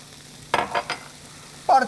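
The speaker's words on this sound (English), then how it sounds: "Whisk it up a little bit here" A whisk working red wine vinegar, extra virgin olive oil and Dijon mustard into a dressing, giving a few quick scraping strokes close by with a short pause between them.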